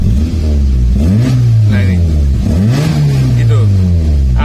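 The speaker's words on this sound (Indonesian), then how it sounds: "Coba kita gas." Engine of a 1997 Suzuki Baleno car revved up twice, loud and close, each rev rising then falling back to a steady idle hum.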